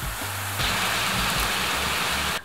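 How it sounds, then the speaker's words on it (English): Steady rain pours down outdoors as a typhoon arrives, a dense, even hiss of falling water that grows heavier partway through and continues without voices. "do you see that rain?"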